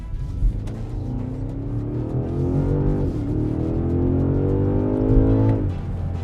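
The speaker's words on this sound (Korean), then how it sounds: "갑자기 이제 길이 좋아져가지고 한참 밟았어요" A BMW M5 Touring accelerates hard on an open road, its engine note climbing steadily through the gears with rising pitch, one brief dip around a shift, and a constant loud drone heard from inside the car with no talk.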